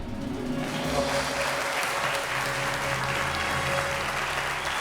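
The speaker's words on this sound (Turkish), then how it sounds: "Ben de alkışlıyorum şu anda." Sustained applause from a game show studio audience fills the room, dense and even throughout, with a faint tonal hum beneath.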